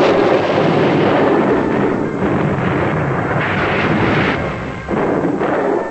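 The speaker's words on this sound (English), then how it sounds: "In Canton, British guns pounded local forts." British artillery bombarding forts at Canton, heard as a dense, continuous roar of heavy gunfire and rumbling blasts that runs unbroken and loud throughout.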